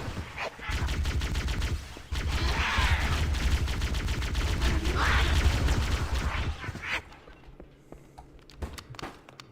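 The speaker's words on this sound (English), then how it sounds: "These RGB rifles are more fun than they should be for what they are" Rapid, dense bursts of rifle fire from the RGB rifles in the modded game Cursed Halo, loud and continuous for most of the stretch, then thinning to scattered shots near the end.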